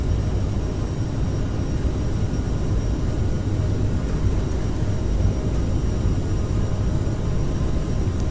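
A CRJ700 regional jet in Microsoft Flight Simulator makes its takeoff roll, a steady loud low rumble and engine roar that holds constant without a break.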